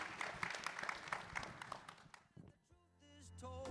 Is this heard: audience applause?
yes